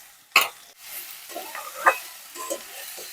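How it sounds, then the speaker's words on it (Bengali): Mixed vegetables frying in white oil tempered with nigella seeds and green chilies, a soft crackle broken by sharp scrapes and clanks of stirring, close by and with no voices. "এবার ভালো করে আমি ভাজা ভাজা করে নেব"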